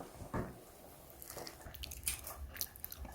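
Quiet, close chewing and biting of food during a meal, soft wet crunches and squishes coming in irregular bursts with no talking.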